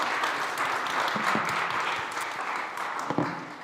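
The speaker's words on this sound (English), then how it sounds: "Give them a round of applause," A crowd at a SXSW 2025 food panel applauds steadily, a dense wash of many hands clapping at once that holds throughout, with a few louder claps rising near the end.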